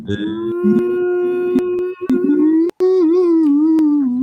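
A dog howls loudly and close in a long, sustained, wavering tone with a brief break midway, alone without talk.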